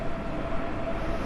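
Train rumble in Train Sim World 2 as a train pulls away, a steady, loud low-frequency roar with a faint tonal whine running through it, no voices.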